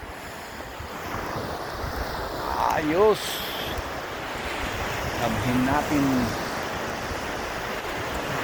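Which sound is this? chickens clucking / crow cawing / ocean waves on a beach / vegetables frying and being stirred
ocean waves on a beach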